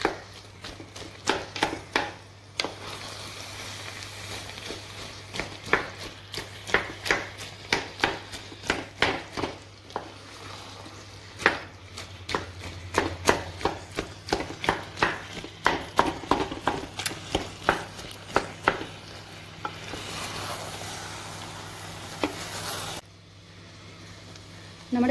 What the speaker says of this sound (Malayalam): ഇനി നമുക്ക് കപ്പ പതുക്കെ ഈ ഇതുകൊണ്ട് ഒന്ന് ഉടച്ചു കൊടുക്കും.